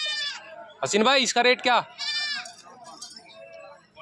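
Goats at a goat market bleat in several short, loud wavering calls close by, mixed with a voice asking about a price.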